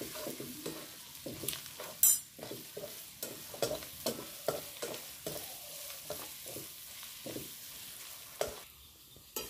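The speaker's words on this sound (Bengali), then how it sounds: "পেঁয়াজ রসুন লাল লাল করে ভাজা হয়ে গেছে।" Onion and garlic fry in a pan, with a soft continuous sizzle broken by repeated stirring and scraping strokes, close and moderately loud, with one sharp metallic clink early on.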